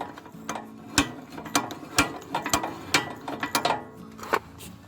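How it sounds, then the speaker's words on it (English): A ratchet tightens a tie-down strap on a Demco Kar Kaddy SS tow dolly: a series of sharp, close clicks in irregular bursts, some louder single snaps, heard alone with no talk. "I'm going to start tightening the strap up a little bit."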